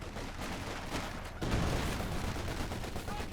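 A bundle grenade blast and gunfire in Company of Heroes 2: a dense crackle of shots, then a heavier, louder burst midway that rumbles on, close and continuous without talk.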